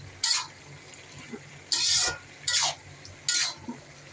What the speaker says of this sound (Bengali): ভাজি করতেছি, সবজির মতো।